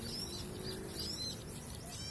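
Small birds chirp faintly in a garden where birds are being lured and caught, thin high calls scattered over a steady background hiss.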